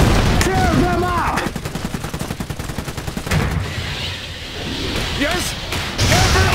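Battle gunfire in the video game Iron Harvest, a sustained rattle of rapid machine-gun shots amid loud booms and slams, with game voices shouting over the fighting.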